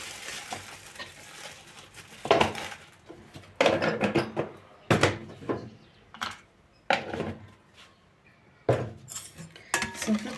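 Cake batter with a spoonful of vanilla being stirred in a bowl for a one-egg orange-cream layer cake, heard as repeated bursts of utensil scraping and clinking against the bowl, close and moderately loud, with quieter pauses between strokes.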